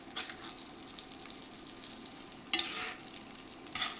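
Reheated food sizzles steadily in butter on an induction burner at 340 degrees, a constant close frying hiss with a couple of brief louder scrapes as a spoon bastes the top.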